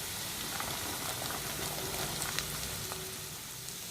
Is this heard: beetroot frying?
yes